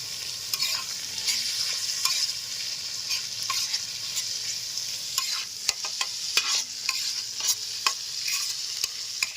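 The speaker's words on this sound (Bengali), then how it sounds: "এবার আমাদের কুচুনো চর্বিগুলো দিয়ে দেবো, এর সঙ্গে একসঙ্গে ভাজবো" Chopped goat fat frying in a pan with potato, onion and garlic for a village-style chowmein, a steady bright sizzle broken by the scrape and clack of stirring throughout.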